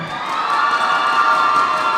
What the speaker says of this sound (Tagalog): Sigaw naman sa Team Darat.